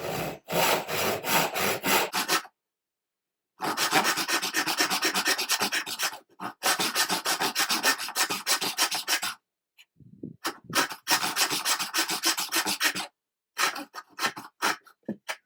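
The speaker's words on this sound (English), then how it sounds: "So I'm sawing right on the line." A hand saw rasps through a wooden tissue-box tail board in fast, rhythmic strokes, close and loud, broken by several short pauses between runs of sawing.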